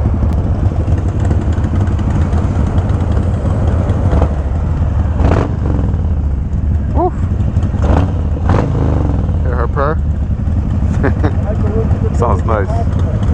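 A motorcycle's exhaust drones steadily and loudly while riding out with a group of other bikes, with occasional rises in engine note and brief voices in the background.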